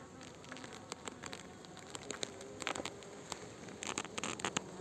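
Newly arrived honeybee colonies buzz close by, a dense insect drone with many individual bees zipping past the ear in quick passes over a steady hum.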